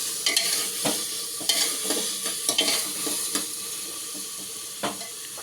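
Chopped tomato stirred into sizzling soybean chunk gravy in a pan, with steady frying sizzle and repeated scraping stirs clinking against the pan, close and moderately loud with no voices.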